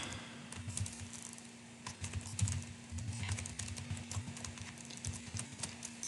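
Steady typing of code on a computer keyboard, rapid soft key clicks running continuously at close range over a low background hum, with no talking.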